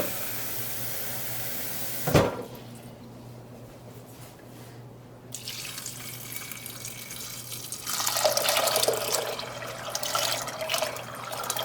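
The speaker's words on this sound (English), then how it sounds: "Then we're going to add enough water to cover." Water running into a pot of beans to cover them: a sharp clank, a quieter stretch, then a rising stream of pouring and splashing that grows louder toward the end.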